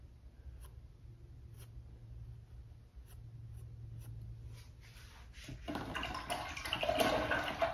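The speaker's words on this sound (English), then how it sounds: "Rinse my brush out." A paintbrush is swished and rinsed in water, heard as quiet, close sloshing and rubbing that begins faintly with a few soft taps and grows fuller toward the end.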